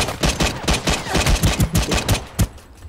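Rapid automatic gunfire in the shooter game Ring of Elysium, a dense burst of a dozen or so close, loud shots fired in quick succession, then a final shot and a fading tail, with no talking.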